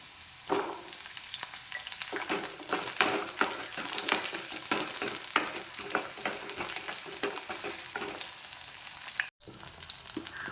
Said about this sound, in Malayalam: ഇതിലേക്ക് ഞാൻ 5-6 ചെറിയ ഉള്ളിയും കൂടി ഇട്ട് കൊടുക്കണ്ടേ.